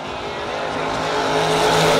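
A Chevy Nova drag race car roaring down the track at a no-box drag event, a loud continuous engine howl that builds steadily in strength over two seconds.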